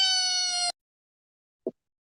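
A large cat gives one sustained, bright meow, followed after a pause by a single short, faint sound; no voices are heard.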